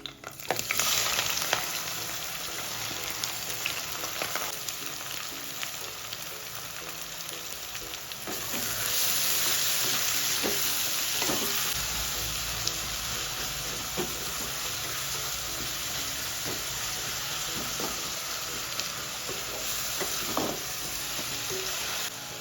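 Onions fry in oil with whole spices such as star anise and bay leaf for chicken biryani, a continuous loud sizzle with occasional stirring clinks, rising in intensity partway through, and no speech.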